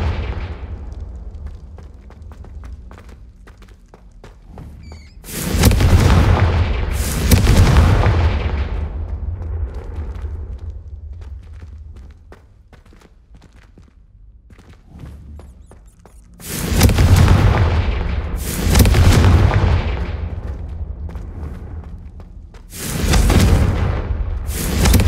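Confringo fire-spell explosions in Hogwarts Legacy, several loud booming blasts arriving in pairs and singles with rumbling decay between them, strong and close, no talk over them.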